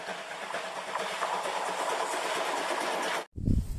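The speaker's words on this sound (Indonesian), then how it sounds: "Wih, kereta api Thomas and Friends." A Thomas and Friends toy train runs steadily with a whirring, rattling clatter close by for about three seconds, then cuts off abruptly before a brief low thump.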